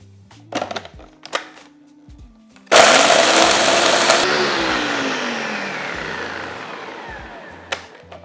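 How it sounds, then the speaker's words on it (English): A kitchen blender crushing Oreo biscuits for a vegan sweet treat, starting with a few clunks and taps, then a loud sudden whirring grind that gradually slows and fades as the blades spin down. "I'm going to blend until they're completely crushed."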